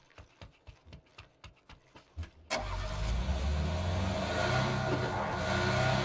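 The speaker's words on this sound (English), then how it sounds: "So I should probably take the car over the bicycle." A car engine in the battle-royale game PUBG cranks over after a string of rhythmic clip-clop footsteps, then catches and settles into a loud, steady running drone that carries through to the end.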